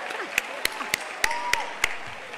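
A few scattered hand claps at a Colégio Anchieta graduation ceremony, about seven sharp, evenly spaced claps standing out over a quiet hall murmur.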